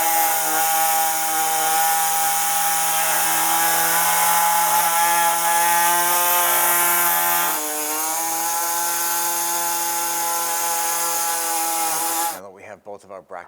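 A power tool cuts through the radiator brackets of a 2011-2017 Honda Odyssey, a loud sustained whine with a steady pitch that drops slightly midway, then cuts off abruptly near the end.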